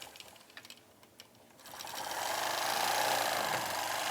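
A sewing machine stitching across an embroidered quilt, beginning with light handling clicks and then a steady, fast, whirring run of stitches that holds loud and close to the end.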